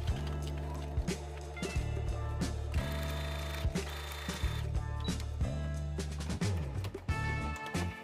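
A sewing machine top stitches a seam on a bucket hat in steady, close, loud bursts of rapid mechanical chatter, pausing briefly between runs, with no talk.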